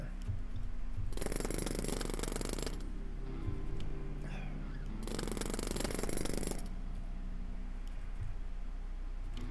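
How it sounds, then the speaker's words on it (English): A jackhammer in the video game Quasimorph rattles in two loud bursts of a second or two each, separated by quieter game ambience with faint mechanical clicks, and no talking. "We got a jackhammer."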